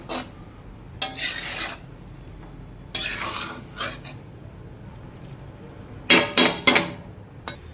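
A metal spatula scraping and tossing patra, Gujarati steamed colocasia-leaf rolls, through a tempering in a flat pan, in several separate bursts of clattering and scraping with quiet gaps between, close and fairly loud.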